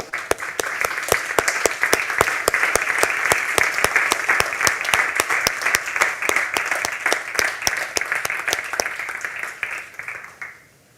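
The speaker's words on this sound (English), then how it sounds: "I would just like to invite everyone to give another applause for our panelists." Conference audience applauding panelists after a panel session on multisectoral and multireligious collaboration; dense, steady clapping with sharp individual claps throughout, fairly close and loud, fading out at the very end.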